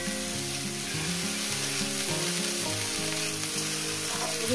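Mourala fish with green chilli and drumstick flowers fries in a pan, a dense, continuous close sizzle like steady rain, with faint stirring and background music, no talk.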